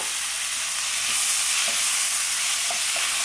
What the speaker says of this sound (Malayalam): ഇതിലേക്ക് ഇനി നമുക്ക് തക്കാളി ചേർക്കാം കേട്ടോ. 2 പഴുത്ത തക്കാളിയാണ് ചേർക്കുന്നത്.